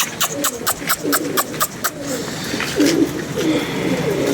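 Pigeons coo in repeated soft, throaty bursts nearby, one of them sluggish and not eating grain, with faint voices in the background.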